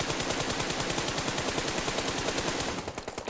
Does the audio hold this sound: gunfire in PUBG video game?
yes